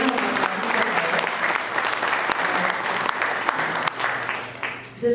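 Audience at a 2022 HSI town hall applauding steadily for about five seconds, a dense even wash of clapping that stays loud throughout with no voices over it.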